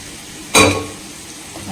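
Cooked mutton and its juices tipped into a hot pan for a Sunday chukka-style dish with small onions, giving one brief loud splash and sizzle burst that fades to a low crackle.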